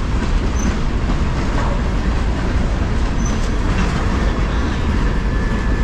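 A freight train rolls steadily along the tracks, giving a loud, continuous rumble and roar with rhythmic wheel clatter and occasional thin metallic squeals, heard from close by as if riding aboard.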